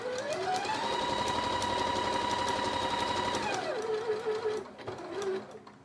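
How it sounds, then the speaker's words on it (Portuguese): A sewing machine stitches a zigzag seam across fabric scraps, its fast, even whir running steadily and close for several seconds before slowing and stopping with a few short final bursts. "costurei aqui com o zigue-zague"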